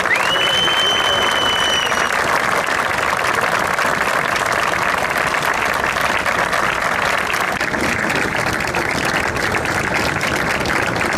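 Sustained applause from a crowd at a student council march at Çanakkale Onsekiz Mart University, dense and loud throughout with a brief whistle near the start.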